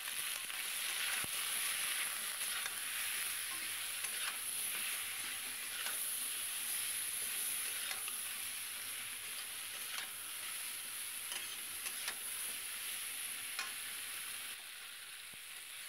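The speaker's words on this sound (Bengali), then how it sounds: "সিমটা দিয়ে দিলাম। একটু নুন হলুদ দিয়ে দিলাম।" Beans frying in an oiled pan with salt and turmeric, a loud continuous hissing sizzle heard up close for a long stretch, with faint scrapes from stirring now and then and no one speaking.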